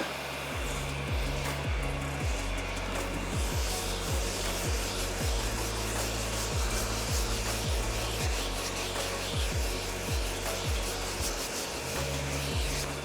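Body filler on a van panel being hand sanded, a close rhythmic rasping rub repeating about once a second in even back-and-forth strokes over a low steady hum.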